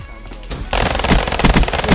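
Rapid, loud gunfire erupts after a brief lull in Call of Duty: Black Ops 3, a dense burst of pistol shots from close range in a multiplayer match.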